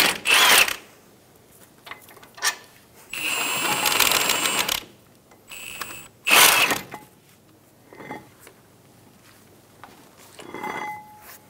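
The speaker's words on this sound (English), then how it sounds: "Using a 21 millimeter socket," A socket wrench ratchets in short bursts on the caliper bracket bolts of a 2007-2017 Ford Expedition's front right wheel, with close metallic clicking spurts separated by quiet pauses and small clanks.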